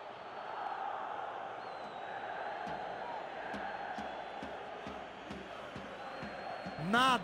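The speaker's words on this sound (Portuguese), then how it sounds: "para o torcedor aplaudir e vibrar" Stadium crowd in the PES 2021 football video game, Olympique Marseille vs PSG in Ligue 1, keeps up a steady broad roar throughout, swelling louder at the very end, with a commentator talking over it.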